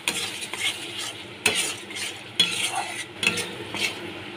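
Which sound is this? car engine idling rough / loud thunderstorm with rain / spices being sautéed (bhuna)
spices being sautéed (bhuna)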